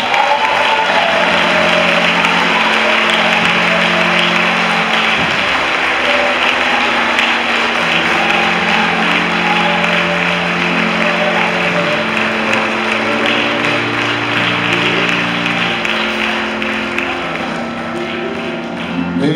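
A church congregation claps steadily in sustained applause, a broad, loud wash of many hands with sustained musical tones underneath throughout.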